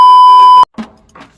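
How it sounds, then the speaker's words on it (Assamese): A mobile phone rings with a loud, steady electronic tone that cuts off abruptly after about half a second, followed by brief, quieter voices. "মোৰ ফোন আহিছে"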